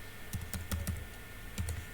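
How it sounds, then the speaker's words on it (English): Fingers tap out a web address on a computer keyboard, a few quick keystrokes in small clusters with brief pauses between them, close and clear over a quiet room. "this is where you type the web address of wherever you want to go"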